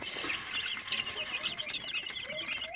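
Black Australorp cross chickens under a month old, cluck and chirp in a rapid, fairly faint chorus of overlapping calls that continues throughout.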